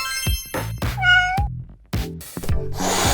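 A cartoon cat meows several times in quick succession, close and clear, with one long drawn-out, rising meow in the middle of the short run of calls.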